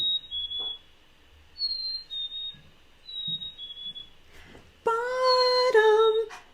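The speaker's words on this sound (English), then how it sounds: "when they have a confrontation, what they do is they do the same song, but listen to this." Two songbirds trade the same song during a spring territorial confrontation: thin, faint high whistles come first, then a loud, close, rich whistled phrase with stepped notes near the end.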